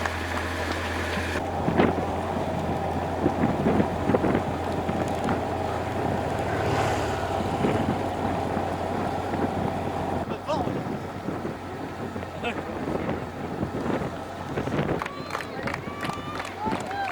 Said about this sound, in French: On a le vent de face.